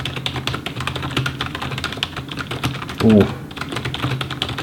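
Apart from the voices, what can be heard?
typing on a Razer Cynosa V2 RGB gaming keyboard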